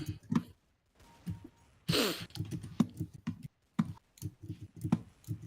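Computer keyboard typed on during a Counter-Strike: Source gaming session, close and clattery in uneven bursts with brief pauses, plus a breathy sigh partway through.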